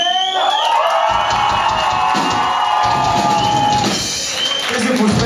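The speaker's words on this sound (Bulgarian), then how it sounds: "Тези аплодисменти само за вас" A club crowd at a rock band's first concert cheers, whoops and claps loudly and steadily, a thick wall of shouting with a few sharp whistles and yells rising above it.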